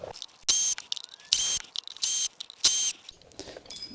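Ratchet with a Torx bit backing out bicycle brake disc bolts, several short bursts of crisp clicking separated by brief pauses, close and fairly quiet.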